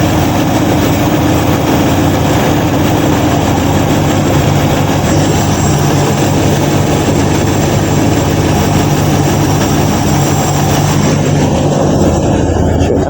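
1953 Ford Customline with a swapped 350 engine and new intake, idling as a steady loud rumble that holds evenly throughout with no talk.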